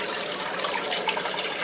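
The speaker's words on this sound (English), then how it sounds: "I want to show you right now how much water I have coming in" Water pours heavily into a basement sump pump pit, a dense, steady rushing splash close by with no pauses and no voices.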